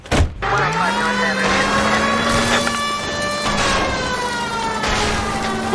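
In the L.A. Noire video game, a car smashes through backyards: a brief crunch at the start gives way to a loud, sustained engine roar, its pitch climbing and holding, with sirenlike tones over it and no speech.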